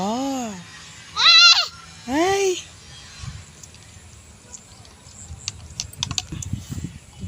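A goat bleats twice in quick succession, loud and close, with harmonic wavering cries, followed by quieter background rustling and faint clicking.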